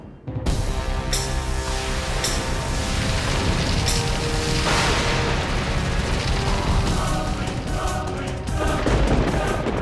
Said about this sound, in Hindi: भयंकर परियों, आग के गोलों से आक्रमण करो।